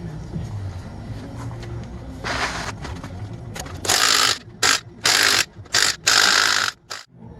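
Bursts of rapid ratchet clicking while removing a Chevrolet Silverado Duramax AAM 11.5 rear differential cover, several in a row with short pauses, close up over faint background noise.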